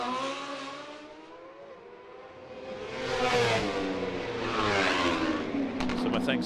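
Racing motorcycles in warm-up at the Macau Grand Prix street circuit, engines rising and falling in pitch as they accelerate past, swelling louder toward the end, with a voice speaking over them.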